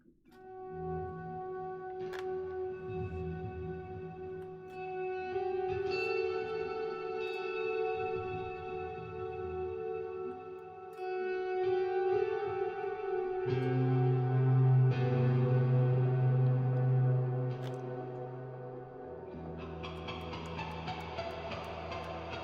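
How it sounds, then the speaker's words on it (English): Sustained ambient guitar notes ring out through a long, washing reverb, layered chords swelling and shifting slowly with no talking. "Let's end with some ambient, bro. Some nice, long ass reverb."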